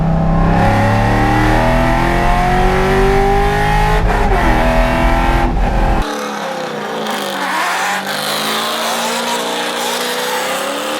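A C5 Corvette accelerating with its engine note rising steadily and loud for about six seconds, then cut to a quieter, airier stretch of road and wind noise as the car keeps moving.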